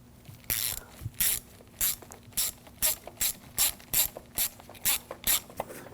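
Hand ratchet snugging down the vapor canister purge solenoid valve on a 2006-2009 Audi S4 4.2L V8, a close, steady run of about a dozen sharp clicking strokes, each a brief burst of rapid pawl clicks, no talking.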